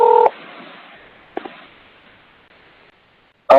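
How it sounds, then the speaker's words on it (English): Touch-tone telephone dialing while a call is placed: a short DTMF keypad beep, a quiet hissy line with faint clicks, then another tone bursting in at the end. The beeps are near and clear, with no speech. "I'm calling you, Nanny."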